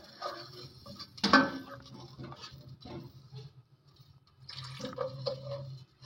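Water is poured into a cooking pot of tomatoes while making a traditional tinda (round gourd) dish, giving a steady pouring wash with a sharp clink of metal cookware early on and a second stretch of pouring later.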